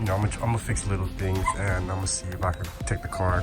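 A pet dog whimpers, cries and yips in short repeated bursts close by, heard under someone talking steadily nearby.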